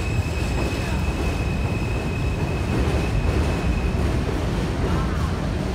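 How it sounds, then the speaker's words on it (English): An NYC subway train pulls slowly out of the Coney Island terminal on a rainy day, a continuous low rumble and rattle with a faint high whine, steady and fairly close throughout. "the train's leaving slowly out of the terminal"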